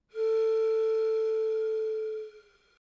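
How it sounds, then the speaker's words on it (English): A pan flute, digitally lowered an octave and drenched in reverb, holds one deep, pure sustained note for about two seconds before fading with a short reverberant tail, alone and loud. "This is actually me playing my pan flute here, but digitally lowered an octave and put through a reverb to give it this big, low effect"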